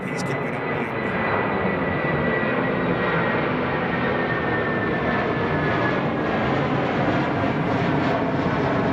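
Boeing 777X jet climbing steeply after takeoff at Boeing Field, King County International Airport: a loud, continuous, dense engine roar held evenly throughout, with people talking over it.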